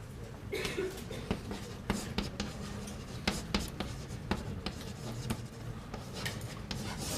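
Chalk writing on a blackboard during a university calculus lecture, a steady run of scratchy strokes and sharp taps at close range, with faint room noise and no talking.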